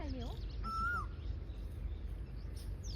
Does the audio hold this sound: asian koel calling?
yes